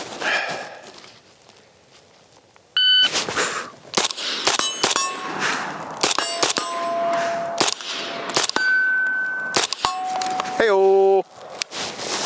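A suppressed Palmetto State Armory JAKL fitted with an AMG Labs Commander is fired at steel targets. Sharp muffled shots are each followed by loud ringing clangs from the steel, eight in quick succession outdoors after a quiet start.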